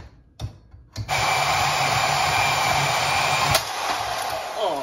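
A drill bores slowly through metal with a big bit while building a DIY receiver hitch umbrella stand, whining in one steady, loud, continuous tone after a couple of short clicks and knocks at the start.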